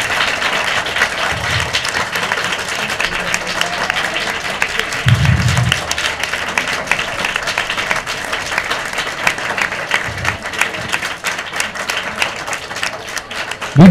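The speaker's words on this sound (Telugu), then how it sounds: "చప్పట్లతో దబ్బరిగిపోయింది" A school audience claps in sustained, dense applause that fills the space evenly, with brief low thumps and faint voices mixed in.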